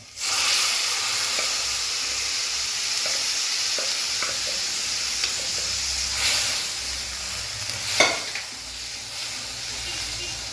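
Cooked long beans and tender banana stem sizzle and hiss steadily in a frying pan for a Kerala stir-fry, with stirring scrapes and a sharper clatter near the end, no talking.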